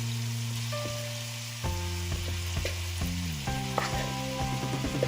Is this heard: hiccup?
no